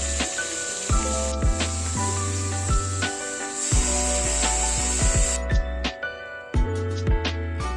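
Chopped tomatoes sautéing in coconut oil in a pan: a steady sizzle under repeated clanks and scrapes of a spoon stirring against the pan, fairly close and continuous.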